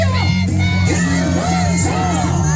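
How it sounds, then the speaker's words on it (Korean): Supporters at a presidential candidate's rally outside Unjeong station in Paju shout and cheer loudly nearby, with overlapping yells and chanted voices rising and falling in bursts over a constant crowd roar. "박수와 함성으로 김문수를 외쳐주십시오"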